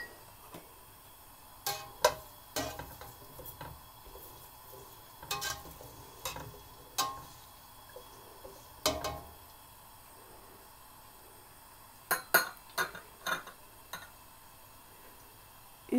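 Kalonji and fenugreek seeds cooking in oil for a homemade herbal hair oil: soft, quiet sizzling underneath with scattered sharp ticks and pops, as if a spoon stirs the pan, irregularly spaced over a faint steady hiss.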